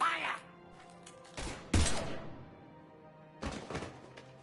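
A few heavy, separate gunshot bursts ring out in a Mass Effect 3 firefight, with a sharp thudding blast in the middle and quieter gaps between them.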